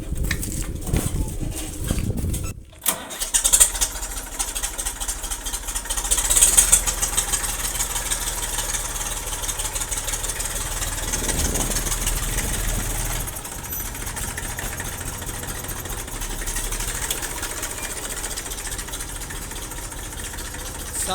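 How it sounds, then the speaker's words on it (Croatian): Tractor engine running steadily while backing up with an empty light trailer hitched, a continuous mid-low rumble with slight knocking, close and loud throughout, after a brief dip near the start. "Sad lepo vratimo traktor nazad"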